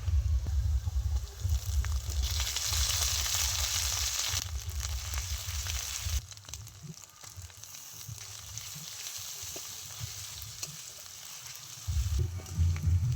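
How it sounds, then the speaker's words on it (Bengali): Onions sizzle and fry in a hot pan, then ginger-garlic paste goes in. The frying is steady and close throughout, with a brief dip in intensity midway before it rises again. "পেঁয়াজটা খুব ভালো করে ভেজে নিয়েছি দিয়ে দিচ্ছি এবারে আমি আদা রসুন বাটা"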